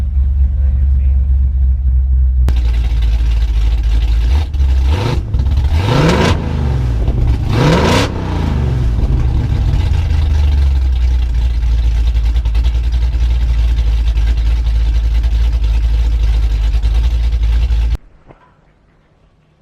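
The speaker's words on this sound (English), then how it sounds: "This truck is really loud. It echoes a lot inside the cab." A 1967 Mercury F250 truck with a 352 big block Ford engine runs loud inside the echoing cab, a heavy low rumble with several sharp revs early on, then a steady idle until it cuts off.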